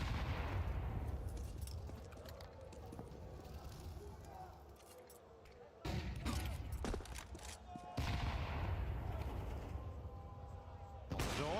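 Bursts of rifle fire crackle during a Counter-Strike 2 esports match between G2 and Furia, with loud volleys breaking in at intervals while a commentator talks over the action.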